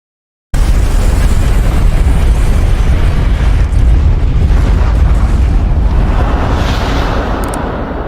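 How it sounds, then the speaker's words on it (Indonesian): A train blowing up in the Resident Evil 2 Remake video game, carrying the G-Virus: a loud sustained explosion roar with deep rumble that begins abruptly and holds for several seconds, slowly fading at the end. "kereta api itu pun meledak bersamaan dengan G-Virus di dalamnya"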